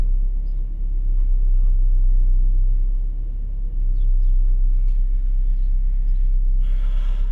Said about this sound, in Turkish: Şu an çalışıyor araba.